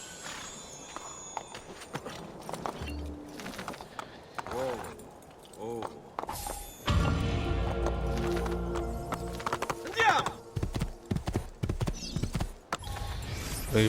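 Horse hooves clip-clop at a steady walking rhythm in Assassin's Creed II, fairly close and clear, with someone talking over them and game ambience and music behind.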